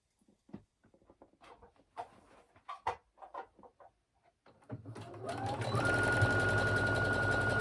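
A sewing machine stitching a leggings seam, starting after a few seconds of light handling clicks and taps, then running in a steady, continuous whirring hum close by, with no talking.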